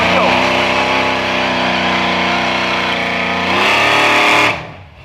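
A race car accelerates hard at St Thomas Dragway, a drag strip, its loud engine holding a sustained, rising roar for several seconds before cutting off abruptly near the end.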